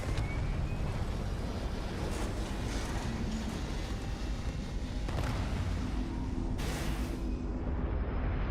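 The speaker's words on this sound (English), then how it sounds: "Engines purring." Spaceship engines in the video game Starfield give off a continuous dense roar, steady and loud for the whole stretch, with a few brief swells and no speech.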